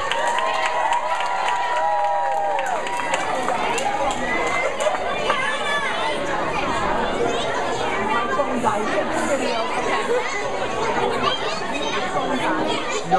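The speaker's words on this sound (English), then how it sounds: "give another round of applause to your first grader" An audience at a school cultural arts night claps and chatters after a first-grade performance, a busy mix of applause, children's voices and crowd murmur that runs continuously, with people talking nearby.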